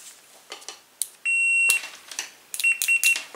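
Two steady electronic beeps from a multimeter continuity tester, one long tone of about half a second and a shorter one later, clear and close, with faint clicking and handling noise around them.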